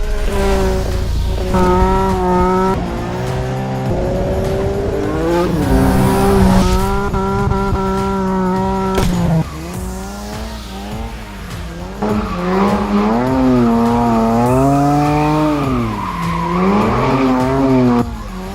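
An Aston Martin DB5, not entirely standard, driven hard in stunt style, its engine roaring and revving as the tires squeal in long, wavering skids, loud and close throughout.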